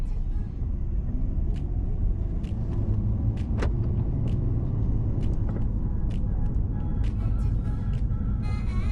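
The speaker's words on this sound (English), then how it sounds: "First drive in a right-hand drive car." A right-hand drive car from Japan drives along with a steady low engine and road rumble throughout, a few faint clicks and rattles over the top, and no clear talking.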